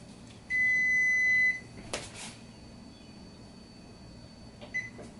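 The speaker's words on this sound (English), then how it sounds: "Okay, I turn the timer off." Kitchen oven timer sounding a long continuous electronic beep, then a short repeat a few seconds later, close and clear over quiet room hum, with a brief clatter between.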